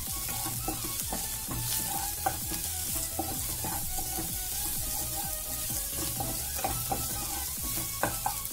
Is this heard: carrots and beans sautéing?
yes